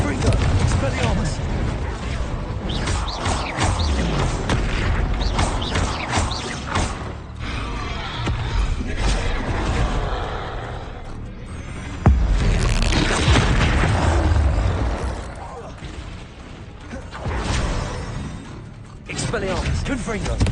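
In Hogwarts Legacy, explosive Confringo spells blast again and again in booming, crashing bursts amid dense game noise, while a player speaks over the action.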